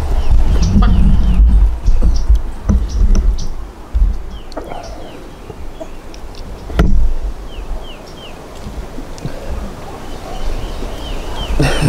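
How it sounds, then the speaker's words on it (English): Chickens clucking and calling in a backyard, repeated close and fairly loud clucks scattered across the stretch with a few sharp squawks, someone talking between them. "She's a hood chicken."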